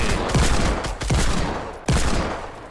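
Gunfire crackles in a Fortnite Battle Royale match, three sharp bursts of rapid shots in quick succession over a dense, noisy game background.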